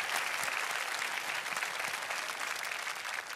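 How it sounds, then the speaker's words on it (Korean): A studio audience claps steadily and somewhat distantly at the end of a magic act on a Korean comedy stage show, a continuous wash of applause with no speech over it. "큰 박수 주세요."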